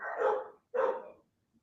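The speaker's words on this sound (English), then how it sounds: "I'm so sorry that my dogs are so riled up tonight." Riled-up pet dogs indoors at night give two loud, close barks in quick succession, each about half a second long, followed by silence.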